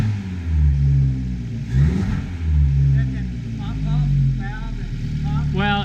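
An Abarth X19 revs repeatedly with a throaty exhaust, rising and falling in loud close surges, while voices talk between and over the revs.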